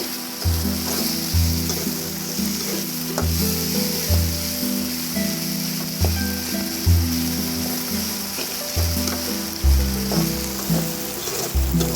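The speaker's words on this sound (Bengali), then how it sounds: "আর যেহেতু চিংড়ি মাছ ভাজি হচ্ছে, তার মধ্যে হচ্ছে কি পেঁয়াজ এবং কাঁচামরিচ এমনিতেই ভাজা ভাজা হয়ে যাবে।" Prawns fry with onion and green chilli in a pan, giving a steady, close sizzle and crackle that runs unbroken through the clip, with no talking.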